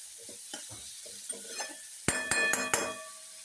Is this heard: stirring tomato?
yes